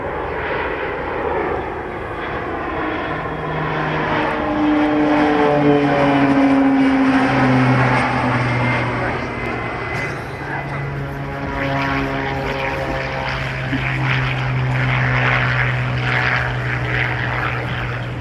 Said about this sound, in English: A dirty run now from the King Air.